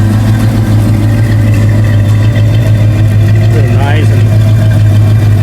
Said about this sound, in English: low, mellow, rumbling sound. Love the exhaust sound.